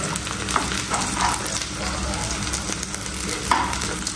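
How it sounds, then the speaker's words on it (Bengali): Dried fish fritters frying in hot oil, a continuous close sizzle with a few soft stirring or turning sounds and no talking. "এখন এই যে এরকম করে ভাজতে হবে।"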